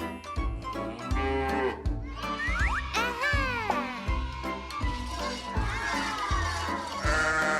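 Sheep on a farm bleat several times in a row, close and clear, over a steady rhythmic thumping background.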